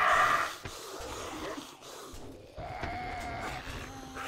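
A cow in the survival game 7 Days to Die gives faint snorting, breathy grunts and short bleat-like calls, scattered over a few seconds against a quiet background.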